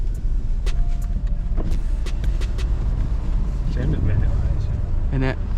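A Mercedes GLC 63 S with about 500 bhp and 700 Nm of torque rumbles steadily from inside the cabin while driving in the rain, a low continuous drone with a few clicks and a brief rising whine, under people talking.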